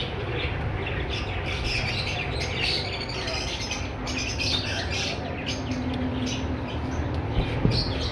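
A blue pastel splitino lovebird breeder pair chirps and squawks amid dense, continuous chatter from many caged birds, close and fairly loud throughout.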